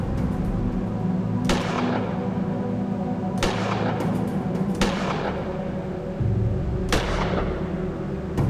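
Gunshots in the sci-fi adventure game Gemini Rue: four sharp, loud single shots spaced irregularly over a steady low ambient hum, with no talking.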